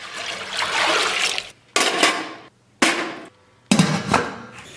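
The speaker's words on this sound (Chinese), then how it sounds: "咱们给锅里边来点82年自来水" Tap water pours in three or four loud, splashy bursts into a cooking pot, each gush broken by short pauses as the flow starts and stops.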